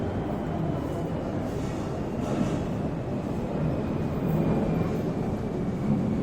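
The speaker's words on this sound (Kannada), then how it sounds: "ಮಾತಾಡೋ ಮಧ್ಯದಲ್ಲಿ ಒಂದು ಫ್ಲೈಟ್ ಹೋಯ್ತು ಅಂದರೆ 1 ನಿಮಿಷ ನಿಲ್ಲಿಸ್ಬೇಕು ನಾವು." An airplane passes overhead as a steady, broad low roar that holds at an even level throughout, with no speech.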